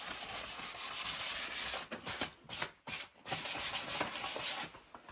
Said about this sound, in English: I'm just giving these areas a little bit of a sanding off.